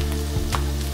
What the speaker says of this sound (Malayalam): ഇപ്പൊ നമ്മുടെ ഉണക്കമീൻ ഇവിടെ നന്നായിട്ട് വറുത്ത് കിട്ടിയിട്ടുണ്ട്.